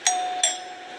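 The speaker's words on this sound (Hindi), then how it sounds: "मैं इस वक्त कुमार गौरव के फ्लैट की घंटी बजा रहा था" A flat's doorbell rings twice in quick succession, a bright electronic two-tone chime with a sustained tone fading afterward, close and clear with no talking.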